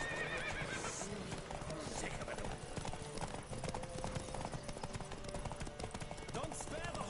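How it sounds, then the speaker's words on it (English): Horse hooves clip-clop at a gallop in The Witcher 3, with a whinny and neigh rising over a busy, steady game soundscape that runs throughout. "Don't spare the horse."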